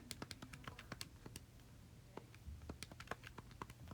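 Keyboard typing at a computer during a math lesson, a quick run of sharp clicky keystrokes in uneven bursts with a short pause midway, fairly close and moderately loud over faint room hum.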